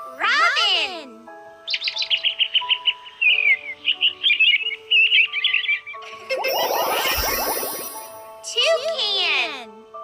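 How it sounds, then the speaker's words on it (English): A robin sings a bright run of quick, high chirps and twittering phrases lasting several seconds, close and clear, with a voice speaking briefly before and after. "Robin!"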